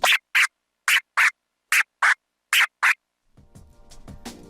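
DJ controller scratching with fader clicks or transforms: eight short, sharp chopped scratch bursts in pairs, loud and close, then faint backing music creeps in at the end.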